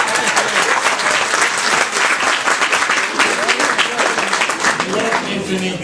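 A large crowd claps loudly and steadily for a political speaker, the dense applause holding at full strength throughout with voices faintly mixed in.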